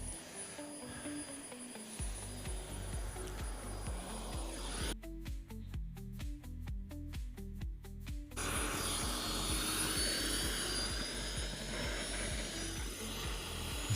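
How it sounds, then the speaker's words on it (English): A model jet's turbine engine runs unevenly while warming up at an air show, a steady loud whine and rumble that stutters in a regular pulsing pattern for a few seconds before smoothing out. "Turbine spluttering a little bit, but it's okay. Getting up to temperature."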